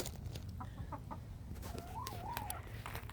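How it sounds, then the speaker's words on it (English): Polish and Easter Egger chickens clucking softly in short, irregular bursts over a steady low background rumble, with a rising and falling squawk partway through. "Over here is all the Polish chickens and the Easter eggers."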